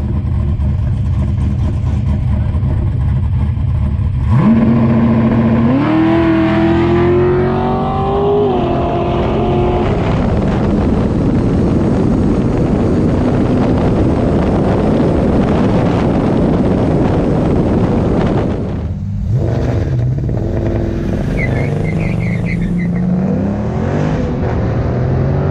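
A Chrysler Pacifica minivan fitted with nitrous accelerates hard in a street race, its engine roaring loudly and climbing in pitch through gear changes under heavy wind rush, with no talk.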